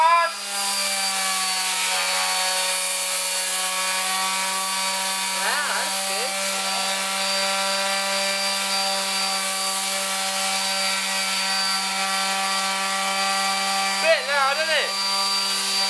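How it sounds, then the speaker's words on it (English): A plain piece of wood is sanded before work moves on to a guitar, giving a steady, continuous abrasive whir with a tonal hum that runs unbroken through the whole stretch. A voice briefly sounds underneath. "sand it down, but I thought we'd better try it on a normal bit of wood first"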